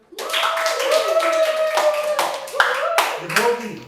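Group three at a workshop on Acehnese oral tradition claps together in a loose, uneven patter of hands while a voice speaks over the clapping.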